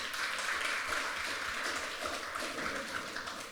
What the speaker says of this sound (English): So, a short round of applause for all of our panellists.